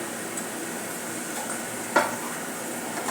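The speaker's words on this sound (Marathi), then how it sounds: "मिक्स करूया आणि याला लो फ्लेमवर शिजवून घेऊया" A burger vegetable mixture with finely chopped green chilli and carrot cooking on low flame, a gentle continuous sizzle with one brief clink of a spoon against the pan as it is stirred.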